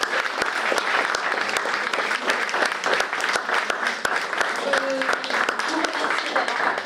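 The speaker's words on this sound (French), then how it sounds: "je pense qu'on peut les applaudir très très chaleureusement" A masterclass audience applauds the film's actors warmly with dense, steady clapping that fills the room without a break.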